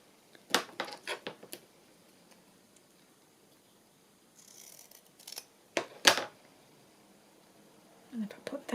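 Scissors snip through paper for a journal collage background, a quick run of crisp cuts followed by a few scattered snips, close and fairly clear with a faint rustle between.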